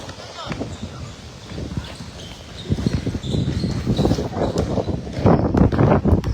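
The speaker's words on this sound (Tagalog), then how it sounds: "Ang lakas ng hangin" Gusty wind buffets the microphone in rumbling bursts, growing stronger and rougher toward the end.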